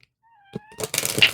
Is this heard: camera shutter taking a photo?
no